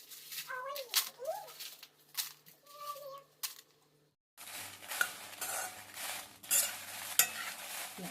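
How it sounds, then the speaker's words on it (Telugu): Dried red chilies fry in a little oil on a low flame for Telugu chili powder, a soft crackle broken by scrapes and taps of a utensil against the pan, with a louder steady sizzle after a brief pause. "ఇప్పుడు ఇందులో మిరపకాయలు వేసుకొని స్లిమ్లో పెట్టి వేయించుకోవాలండి"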